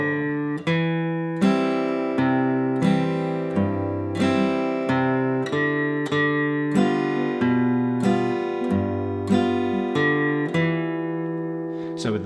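Acoustic guitar playing the first line of the Banks of the Ohio melody in Carter style, a steady stream of plucked melody notes over alternating bass notes, even in rhythm and clearly heard with no voices.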